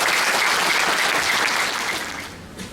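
A congregation at a church's 25th anniversary celebration in Kathmandu applauds to welcome Dr. Reverend Philimon Chhetri: dense, sustained clapping that tapers off toward the end.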